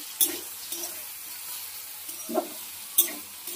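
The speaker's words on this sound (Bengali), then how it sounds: "ভেন্ডিটাকেও ভেজে নেব" Okra fries over medium gas with a soft, continuous sizzle, broken by a few sharp clinks and scrapes of stirring in the pan.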